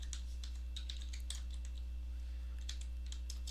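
Someone types on a computer keyboard, producing faint, rapid, uneven clicking keystrokes in quick bursts over a steady low electrical hum.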